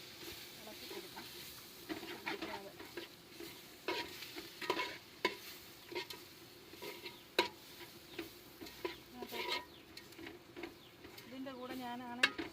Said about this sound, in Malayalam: അര ടീസ്പൂൺ മല്ലിപ്പൊടി നന്നായിട്ടൊന്ന് ഇളക്കി കൊടുക്കാം.